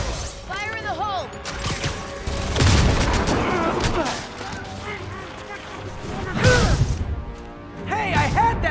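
Grenades explode in Marvel's Spider-Man Remastered game combat, with two heavy crashing blasts about four seconds apart amid clattering debris and shouting voices.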